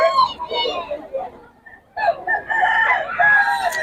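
Rooster crowing among roadside chicken sellers in Bocaue, with close calls in two bursts mixed with people talking nearby.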